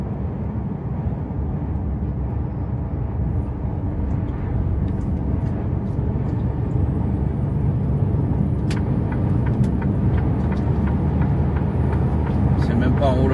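A straw truck with a Dutch trailer and Polish tractor, heard as a continuous low diesel rumble nearby with faint brake hiss and clicks, under ongoing talk at a farmers' protest blockade.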